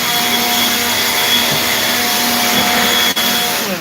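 A Ryobi leaf blower runs steadily and loudly at close range, a constant broadband roar with a whining tone that holds with no pauses and dips only for a moment near the end.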